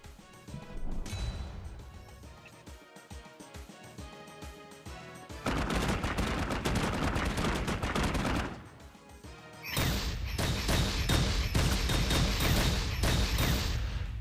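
Airstrike in the Metal Slug Tactics video game: rapid bursts of gunfire and explosive crashes, loud and dense, surging in two long barrages with a brief lull between.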